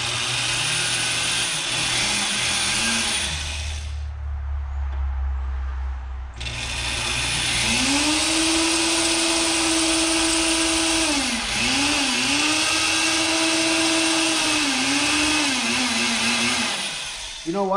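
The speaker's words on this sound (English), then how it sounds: "That way all these little shavings don't go all crazy everywhere once I drill through." A power drill bores through a turbo intercooler part for a 500 hp Civic build, its whine loud and close, pitch rising and dipping as the bit bites in and breaks through, with a short pause midway.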